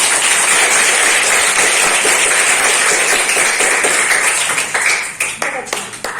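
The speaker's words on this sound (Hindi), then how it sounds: "शिवांगी और साफिया के लिए जोर से तालियां बजा सकते हैं" Children clapping loudly at a primary school student-parliament formation in Gurchahi, Risia block, a dense steady patter that thins into scattered claps near the end.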